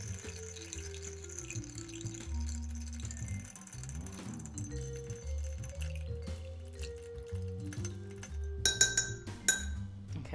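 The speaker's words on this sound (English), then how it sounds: "So we're going to stir this for about 30 seconds as per usual till it is nice and chilled and appropriately diluted" Ice clinks and rattles against a glass as a cocktail is stirred for a rocks-glass serve, a steady close-up jingle with no talking and a brighter burst of clinks near the end.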